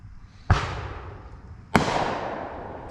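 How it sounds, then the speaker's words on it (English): Two fireworks going off outdoors, each a sharp loud bang followed by a long crackling, rumbling decay, about a second and a quarter apart. "Fireworks."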